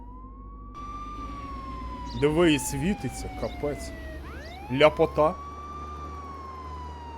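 A police car siren in the video game Contraband Police wails in long rising and falling sweeps, loud and close, with someone speaking over it in two short bursts.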